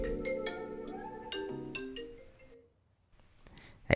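Melodic phone ringtone for an incoming call, a bright synth-like tune of stepped notes that rings for over two seconds, then falls silent before a brief click.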